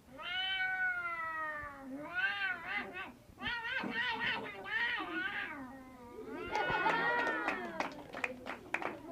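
A human voice imitating fighting cats with drawn-out yowls and snarls, rising and falling, ending in sharp hissing spits; close and loud.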